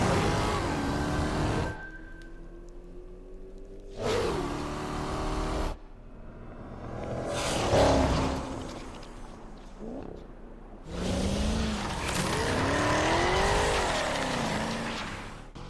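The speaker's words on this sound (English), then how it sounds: "Yes, we spent all summer working on this car. Let me drive it already." A tuned car in Need for Speed Unbound revving hard and driven fast, engine roaring in bursts between quieter gaps, with rising gear pulls and tire squeals, loud and close.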